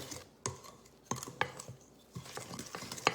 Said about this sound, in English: I'm gonna mix this around with my Danish whisk.